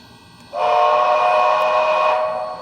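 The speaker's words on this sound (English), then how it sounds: "I have to change the whistle." A BLI PRR T1 model locomotive's DCC sound decoder blows one long steady steam-style whistle of about two seconds, close and clear, rising suddenly and fading slightly at the end with no voices.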